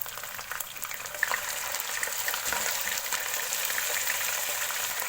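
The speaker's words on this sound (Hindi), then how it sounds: "इसको अच्छे से भूनेंगे हाई फ्लेम पे, ताकि चिकन का कच्चापन ख़त्म हो जाए" Chicken, about 700 grams, fries in a pan over high flame for a pulao, a steady broadband sizzle that swells slightly and holds continuously with no talking.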